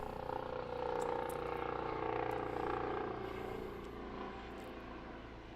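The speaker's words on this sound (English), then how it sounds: "We'll wait for that helicopter to pass." A low, steady rotor-engine drone swells and slowly fades as an aircraft passes at moderate distance, with no talking.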